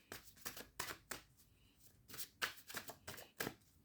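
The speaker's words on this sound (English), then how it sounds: "Let me pull some other cards here." Tarot cards are shuffled and pulled from the deck by hand, a quick series of close, quiet riffling and slapping bursts in an uneven rhythm, with no talking.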